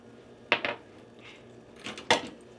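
Seasoned vegetables tossed in a pan with salt and pepper, giving two quick bursts of clattering metal and food, close and crisp, with a quiet pause between them and no talking.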